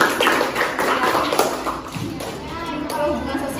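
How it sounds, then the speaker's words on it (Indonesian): A classroom group claps for group 3 after their presentation: dense, close, rapid hand-clapping that lasts a few seconds, with children's voices and talk mixed in. "beri tepuk tangan untuk kelompok 3"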